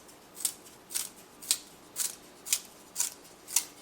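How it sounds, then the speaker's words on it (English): Wooden arrow shaft being tapered in a pencil-sharpener-style tool, giving seven crisp, evenly spaced scraping rasps at about two per second, close and alone. "this just works just like a regular pencil sharpener"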